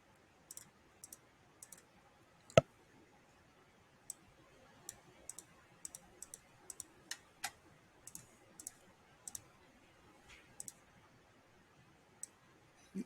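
A computer mouse clicking while a 3D armature is edited in Blender, sparse sharp clicks at irregular intervals, quiet and close against a near-silent background.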